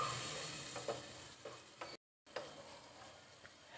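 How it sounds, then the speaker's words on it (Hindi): Chopped tomatoes fry in spice masala with a soft sizzle while a spoon stirs and scrapes the pan in quiet intermittent clicks, with a short dropout midway. "और अब इस मसाले को मैं अच्छी तरह से भूनूंगी ताकि हमारे टमाटर ये अच्छी तरह से नरम हो जाएं"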